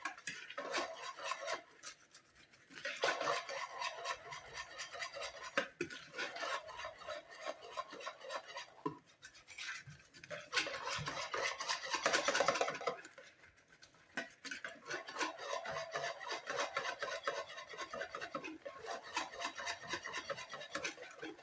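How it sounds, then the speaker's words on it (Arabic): A batter for marbled Algerian croquant cookies, with two ladles of mayonnaise added, is stirred steadily in a bowl, giving a continuous rasping, scraping sound with brief pauses between strokes, close and fairly loud, with no voices. "هكا كلاتي نحركوهم مليح"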